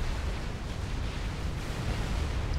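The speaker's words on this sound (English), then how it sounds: "Absolutely gunfire coming in from all directions." Distant gunfire and explosions rumble through a Supreme Commander: Forged Alliance battle, a dense, continuous low roar of bursts layered under constant noise, with no talking.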